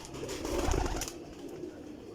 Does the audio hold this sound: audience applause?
no